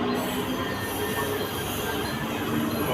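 A Mumbai local train running on the rails, its wheels giving a continuous high metallic squeal over a steady rumble, loud and close throughout with no talk.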